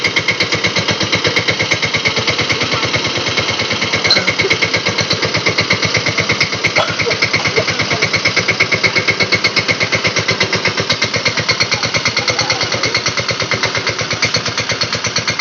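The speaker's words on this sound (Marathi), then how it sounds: "सर्व मजा घेतात ट्रॅक्टरची." A tractor engine runs at a steady, loud idle on a farm, its rapid, evenly spaced chugging pulses continuing unbroken and close up throughout, with no voices.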